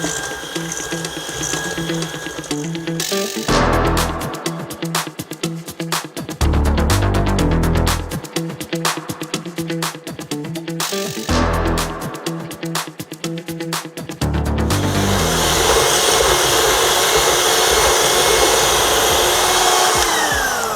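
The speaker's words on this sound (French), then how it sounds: "Le mélangeur était enclenché" Electric mixer whirring as it beats a first cake batter mixture for a quick snack: loud, steady motor drone broken by brief pauses and rattling bursts, with a harsher, stronger whir near the end and no talking.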